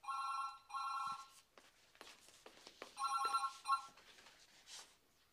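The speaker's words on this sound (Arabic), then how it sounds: "ايه ام همام على التليفون" A telephone rings in short repeated electronic bursts, two rings at the start and another pair later, with quiet rustling and handling noises in between.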